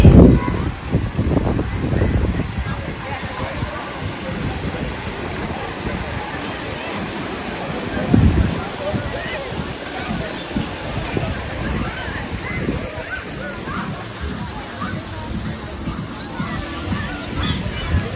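Water sprays and splashes at a Palm Beach, Florida water park, a constant rushing wash with heavier bursts at the start and around the midpoint, as people talk and chatter nearby.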